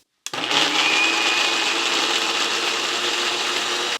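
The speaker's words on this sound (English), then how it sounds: "let's switch on the mixer and grind the cashew nuts to a fine paste" An electric kitchen mixer grinds cashew nuts with a quarter cup of milk into a fine paste, starting abruptly and running as a steady, loud, continuous whir with no talk over it.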